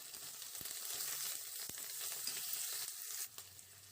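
Onion dropped into hot oil with urad dal and mustard seeds, frying with a soft, steady hiss and a few faint stirring taps, fairly quiet and without talk.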